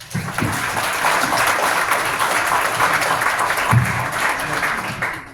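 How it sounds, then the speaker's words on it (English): Audience at a tech demo night applauds after a presentation, a full, even round of clapping from a sizable crowd, steady and close for about five seconds with brief low thumps underneath before easing off. "Let's give Sarah a round of applause."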